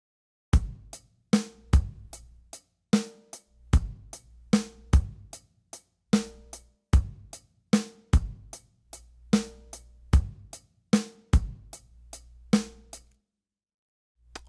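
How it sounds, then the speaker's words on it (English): Programmed kick drum hits in Pro Tools, played alone as a punchy, booming pattern of repeated beats with some hits shifted early, about two per second over a steady groove. "I'll start by pulling the second kick drum in every bar an eighth note earlier"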